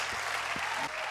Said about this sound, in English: Give the Lord a mighty clap of. Give it to Jesus.